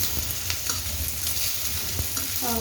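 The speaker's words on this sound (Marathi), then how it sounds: "1 मिनिटभर छान फास्ट गॅस करून त्याच्यावर तुम्हाला परतून घ्यायचं" Pieces of ivy gourd (tondli) stir-fry on a high flame, making a dense, steady, close sizzle punctuated by stirring scrapes.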